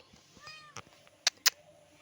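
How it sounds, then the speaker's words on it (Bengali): A cat gives a single short, faint meow, followed by a couple of sharp clicks in an otherwise quiet room. "আরেকজন এখানে ম্যাও ম্যাও ম্যাও ম্যাও করছে"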